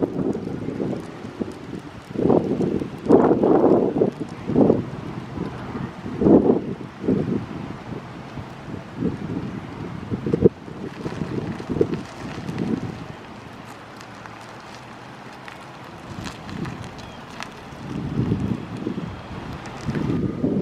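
Strong gusts of wind buffet the microphone in repeated rumbling bursts, rising and falling over a steady outdoor roar, with no one speaking.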